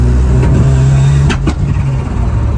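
A Ford Sierra Cosworth engine running with a boost fault so it fails to build pressure properly, loud and close, idling with a low steady drone and a couple of short blips of throttle, no talk.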